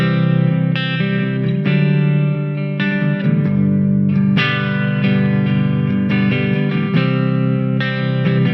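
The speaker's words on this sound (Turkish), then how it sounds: "1A Twin Reverb. Fender amfi." Electric guitar played through a Mooer Hornet 15i amp on its Fender Twin Reverb preset, sounding loud and sustained with strummed chords and ringing notes, steady for the whole stretch with no talking.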